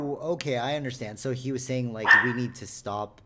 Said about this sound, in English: we apologize for the dog.